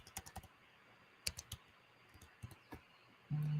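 A password is typed on a computer keyboard: short bursts of crisp key clicks, some single and some grouped, close and fairly quiet, followed by a steady low hum at the end. No one speaks.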